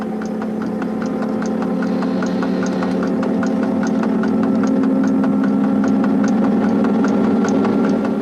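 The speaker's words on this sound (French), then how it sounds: "Et l'on entend le chant des moteurs, si caractéristique de la mise en vitesse des 6500." Traction motors of a CC 6524 electric locomotive accelerating away from Paris Austerlitz, recorded from inside the cab: a steady droning whine with rhythmic ticking pulses, continuous and fairly loud, with no talking.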